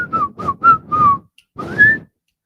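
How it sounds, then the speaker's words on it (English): A man whistles a melody live into a microphone. Five clear, close, tuneful phrases come in a steady rhythm, the last one held longer and rising, with a brief gap before it. "Aren't you impressed that I can whistle?"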